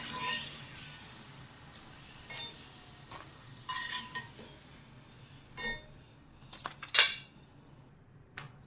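A metal utensil scrapes and clinks against a pan as fried pieces of milk cake (pal cake) are scooped out once the flame is off, with faint sizzling and scattered clatter at a quiet level.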